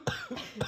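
Three short, close coughs in quick succession, each a harsh burst of breath, after kalanchoe juice is dripped into the nose.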